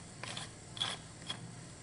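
A pepper grinder is twisted over a flank steak during a dry rub, giving three short, quiet ratcheting crunches spaced about half a second apart in an otherwise still kitchen.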